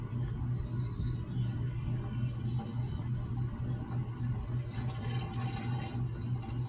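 Water pours steadily into bottles set beside tomato plants, a continuous close rushing flow with a low gurgling hum that holds for the whole stretch, no voices.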